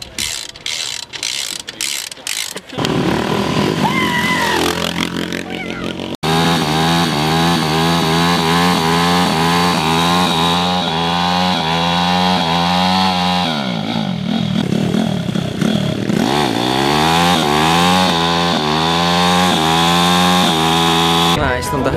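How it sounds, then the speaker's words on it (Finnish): A moped engine runs steadily while being ridden, its buzzing exhaust note rising and falling with throttle changes and strong harmonic sweeps; mechanical rattling opens the stretch, and the engine stays loud and close throughout. "Mä istun tän hyvän mopon kyydissä."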